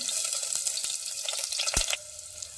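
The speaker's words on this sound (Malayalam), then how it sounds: "കടുകെല്ലാം പൊട്ടി കഴിയുമ്പോൾ അതിലേക്ക് ചെറിയ ഉള്ളി അരിഞ്ഞത് ഇട്ട് കൊടുക്കാം" Chopped shallots fry in hot coconut oil with popping mustard seeds, a close, steady sizzle with a few sharp crackles and pops, and no voices.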